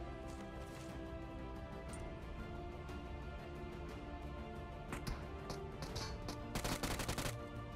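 Gunfire from a computer-controlled bot in a solo third-person battle royale match, heard as a steady rattle of distant shots under dense game ambience, growing into louder bursts toward the end.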